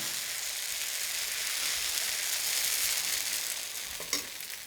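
A dosa cooking on a hot griddle over a half flame, giving a steady bright sizzle and crackle that holds evenly throughout, close and alone, with a small tap near the end.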